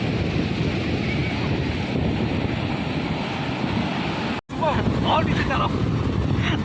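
Loud, continuous rushing water roars throughout, briefly cutting out once, with faint voices rising over the torrent near the end.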